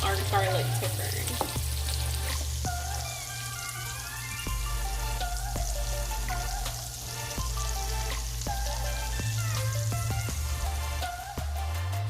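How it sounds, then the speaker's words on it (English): Garlic and red bell pepper sizzle steadily in bacon fat in a pan, a soft continuous frying hiss with a low hum and faint clinks underneath, no talking. "We're just going to saute this in the bacon fat for about 1 to 2 minutes."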